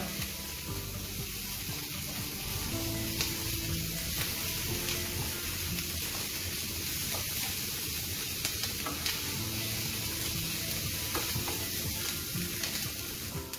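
Squash stuffing stirred and cooking in a hot pan, seasoned with pepper and salt, giving a steady close sizzle with continuous scraping and stirring throughout.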